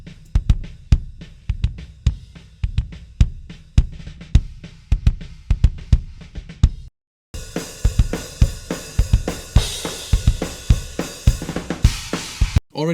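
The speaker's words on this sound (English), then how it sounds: "I have the kick sample 6 dB more quiet than the kick mic, and it sounds like this together." Kick mic and kick sample blended in a song mix, the sample 6 dB quieter, giving steady punchy kick hits with doubles; after a brief gap the kick continues under crashing cymbals and fuller drums.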